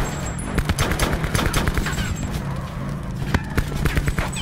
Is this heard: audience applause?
no